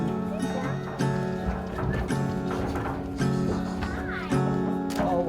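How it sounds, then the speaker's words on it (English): Horses are led off a trailer arriving from an auction at a quarantine area, hooves thumping and clopping in an irregular run over steady background noise and clatter. "we're just unloading the horses"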